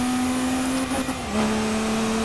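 An Audi R18 race car engine in Forza Motorsport 4 holds a steady, sustained high-revving drone under power, dipping briefly and then pulling again, up close with no voices.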